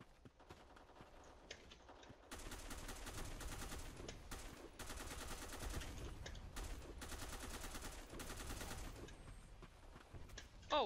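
Sustained gunfire in Black Squad PvE mode, dense overlapping bursts of automatic fire that carry on with little pause and sit somewhat distant and muffled, ending in a louder pop.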